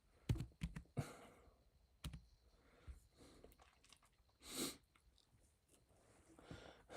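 Keys tap on a computer keyboard in scattered, uneven bursts during a livestreamed chat, close and fairly quiet, with a few sharper clacks and pauses between strokes.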